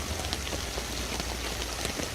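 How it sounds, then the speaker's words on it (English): Steady rain falls outdoors, a dense, even hiss of drops striking nearby surfaces with no pauses and no voices. "Why are you raining on me so much? It was just drizzling when I came out here to start this video."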